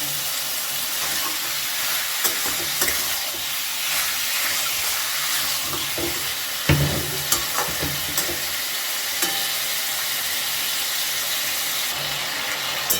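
Chopped onion fries in a pan for a meat curry while being stirred steadily, giving a continuous hiss and sizzle with scattered scraping clicks of the spoon and a louder clatter midway, no voices present.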